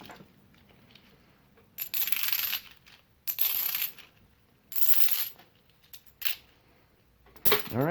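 Silver half dollar coins dropped for a sound check ring out in a series of five or six bright metallic clinks and jingles, close and crisp, separated by brief quiet gaps.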